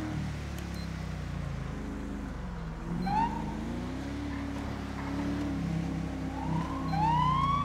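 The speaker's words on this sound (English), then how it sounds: "I think you're scaring the guy I'm trying to pull him over with all the sirens here." Police car sirens from a police video game wail in rising sweeps, two clear swells standing out over a steady low engine rumble and background traffic noise.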